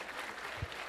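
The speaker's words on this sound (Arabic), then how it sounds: "صفقوا يا اخوان" A lecture audience breaks into a brief burst of applause, a dense, even patter of clapping lasting under a second.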